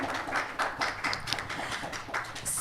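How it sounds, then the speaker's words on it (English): Audience applause for expert panelists at a seminar on Malaysian leadership and Chinese diplomacy: scattered hand claps patter moderately at a distance, steady and fairly faint, with no talking. "please give applause for our esteemed experts here."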